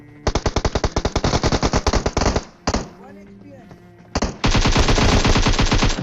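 Rapid automatic gunfire rattles in a battle royale video game, one long burst followed by a short pause with a few single shots and then another sustained burst, loud and close.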